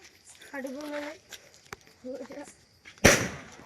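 A Diwali sky shot firework goes off with a single sharp, loud bang that fades quickly, coming right after a few moments of voices talking nearby.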